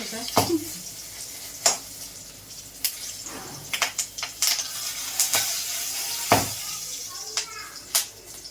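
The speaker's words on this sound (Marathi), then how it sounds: "छानपैकी असं थोडंसं ब्राउनिश भाजा, तेल जरा जास्त घालून" Chana dal roasts in oil in a hot kadhai, giving a soft sizzle broken by scattered clicks and scrapes of stirring against the metal, fairly quiet and close.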